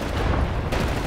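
Submachine gun fire in the video game Wolfenstein The New Order comes as a dense, loud burst of rapid shots lasting about a second.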